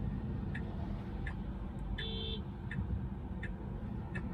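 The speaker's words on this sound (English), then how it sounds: "We're getting honked at, not for any particular reason." A short car horn honk from another car sounds once amid steady road and engine rumble inside a Tesla on FSD Beta 10.3, with a few faint, brief clicks around it.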